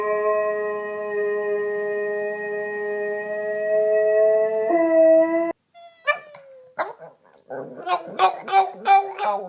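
A dog howls in a long, sustained wavering tone for several seconds, then breaks off into short yelps and whimpering cries, close and loud, with no talk over it.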